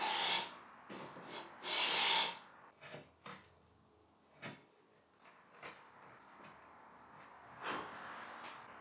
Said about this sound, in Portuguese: Quero que fique justo, então usei o plaina manual para ajustar.